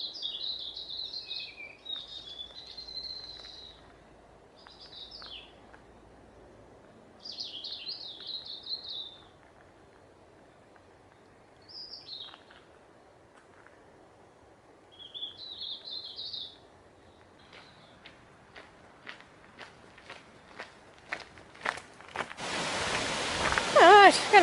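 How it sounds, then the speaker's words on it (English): Small birds call in short, high chirping bursts along a forest walk in the Catlins, New Zealand, spaced out over quiet ambience, followed by a series of sharp clicks and a loud rustling burst at the end. "There's birds flitting all around the sides. Let's listen to all the bird noises."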